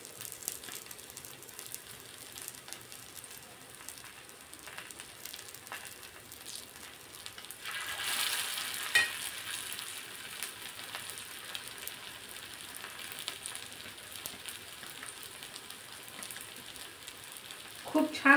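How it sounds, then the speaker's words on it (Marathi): Pea and poha cutlets shallow frying on a flat pan, a faint steady sizzle with a louder crackling burst partway through, no talking. "जेवढ्या बसतील तव्यावरती तेवढ्या टाकून मस्त दोन्ही साइडने शॅलो फ्राय करून घेणार आहोत"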